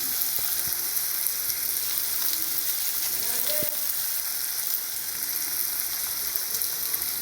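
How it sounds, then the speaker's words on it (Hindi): Three green chilies frying in a pan with browned onion, giving a steady, even sizzle with a brief scrape or two partway through, alone with no talk. "तीन हरी मिर्च डाला है हमने इसमें।"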